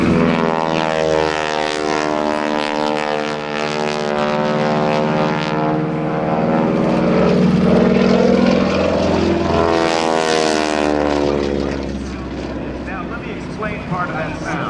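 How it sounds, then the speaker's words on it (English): Air Force T-6 propeller plane, a 5,500-pound aircraft with a 600-horsepower Pratt & Whitney R1340 radial engine, doing a roll-on takeoff at an airshow. The engine drones loud and steady throughout under a voice talking over it. "That is a 600 horsepower Pratt & Whitney radial engine. It is called the R1340."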